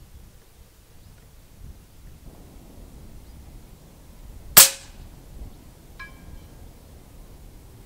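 A single sharp shot from an FX Panthera 700 .25 calibre air rifle fired outdoors on a windy range, loud and sudden over low wind noise, followed a moment later by a faint metallic ring of the target being hit.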